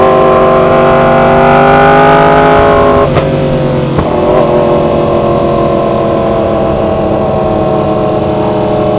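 A 2015 Ducati Hypermotard's engine roars steadily up close on a mountain road, its pitch shifting as the rider revs, with two sharp gear-change dips before the drone settles back in.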